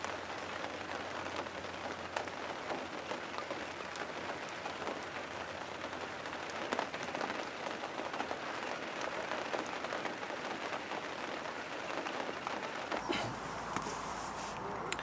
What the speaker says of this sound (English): It's been pretty relentless rain